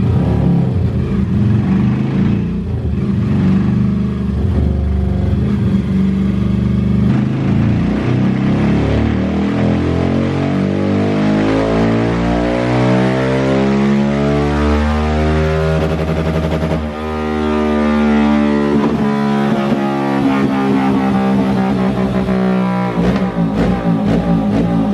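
A motorcycle engine revs loudly and close, its pitch climbing and falling in repeated sweeps as it accelerates through the gears, with no talking.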